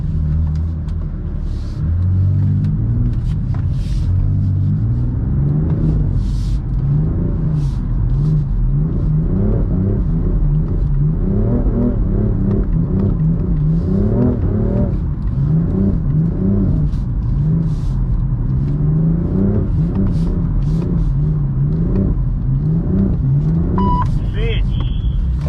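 A BMW M4 drifting on a track in Korea, its engine revving hard and wavering up and down in repeated surges for the whole stretch, loud and close from inside the car, with occasional tire or wind noise.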